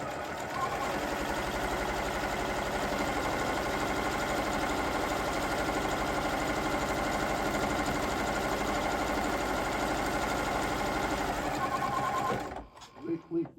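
A sewing machine stitching placemats runs in one long steady whir of rapid needle strokes, close and even, then stops abruptly near the end; a voice talks briefly over it.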